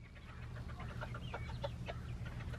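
Bantam chickens cluck and chatter in short repeated calls on a farm, moderately close over a steady low background hum, with no talk.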